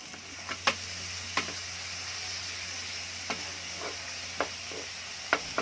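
Ground pork sizzles steadily in a hot pan while a spoon breaks it apart, with sharp scraping clacks landing at irregular intervals over the continuous close frying hiss.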